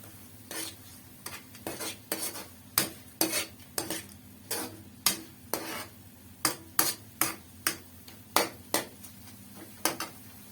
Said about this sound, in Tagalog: Okay, haluin natin.